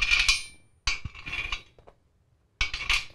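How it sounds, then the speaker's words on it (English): Metal bolts being fitted to a DOF Reality H2 motion platform: a few bright metallic clinks and scrapes in short bursts separated by silent gaps, close by, no talking. "Just going to get two bolts in each one of these."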